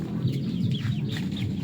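Chickens cluck and call in a village yard in rural East Lampung, with several short clucks and squawks close by over a low murmur of background noise.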